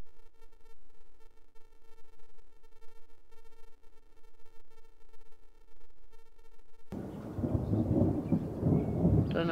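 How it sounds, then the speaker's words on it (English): After a long stretch of steady humming tone, a deep rumble of thunder rolls in loudly over the River Murray, heard from a houseboat, lingering broadly and low. "we'll see if we can get another clap of thunder in a minute"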